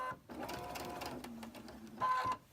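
A sewing machine stitching cotton quilt pieces runs in a steady, close mechanical whir with a humming tone, pausing briefly at the start and surging again near the end.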